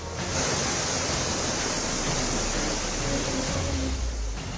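Fast-flowing floodwater after heavy rains in Ranchi, Jharkhand, roars as a dense, steady rush that stays loud and constant throughout.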